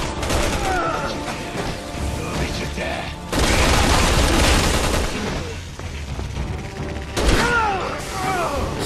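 Gunfire from the video game Resident Evil 6 sounds as sustained dense bursts and booms layered with game effects and music, continuous and loud throughout.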